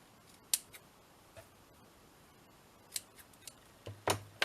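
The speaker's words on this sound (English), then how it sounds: "Let's cut these little bits off." Sharp scissor snips trim small bits of ribbon off a handmade Christmas sachet, a few isolated crisp cuts followed by a quick cluster of snips near the end, heard close in a quiet room.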